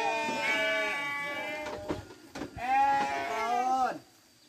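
Sheep in a pen bleat loudly and repeatedly, two or three long wavering calls close by, with no talk over them.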